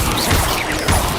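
A short fiery whoosh and crackling burst from an Incendio fire spell in Hogwarts Legacy, loud and close, lasting about a second with no talk.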